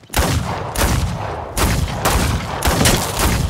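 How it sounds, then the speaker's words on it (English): Six rapid pistol shots fired at a wagon wheel on a cliffside, sharp loud cracks in quick succession with short echoing decay between them, close and alone without speech. "6 quick shots that tear through the spokes and flange"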